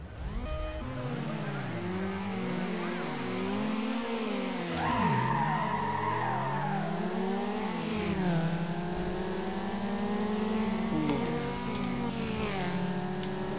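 In Need for Speed Underground, a Mazda Miata engine revs hard through a drag race, rising and falling in repeated sweeps with tire squeal, then settles into a steady high whine.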